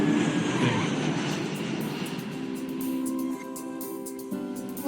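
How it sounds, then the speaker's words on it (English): Steady broadband roar of a fixed-wing airliner landing on a large runway at Sydney airport, a loud continuous engine drone with a droning tone that holds throughout, slightly easing near the end, with no talk over it. "Right now the planes are landing on runway 34L, which is this big runway."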